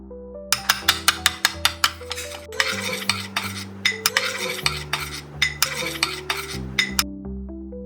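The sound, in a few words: stirring and mixing spice chutney for bread omelette batter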